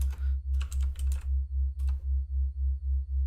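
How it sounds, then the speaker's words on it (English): Rapid bursts of fast typing on a computer keyboard in clustered runs with pauses, over a steady pulsing low hum, while playing Space Quest 3. "this is where I have to type fast"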